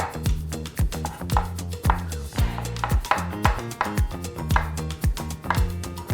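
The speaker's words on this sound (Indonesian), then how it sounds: "Nah, ini kita cincang kasar aja, seperti ini." A knife coarsely chopping champignon mushrooms on a cutting board, a close, loud run of quick rhythmic thuds with brief pauses.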